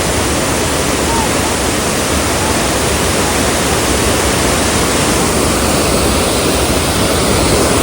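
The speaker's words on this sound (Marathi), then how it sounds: "हे तलावाचं पाणी असं खाली सांडतं" Loud, continuous rush of lake water pouring over a weir, a dense unbroken roar with no pauses.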